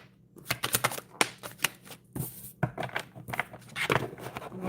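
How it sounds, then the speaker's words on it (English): Tarot cards are shuffled by hand in a quick series of crisp riffles and slaps, close up and irregular, with no talking. "Let me shuffle a little bit more first."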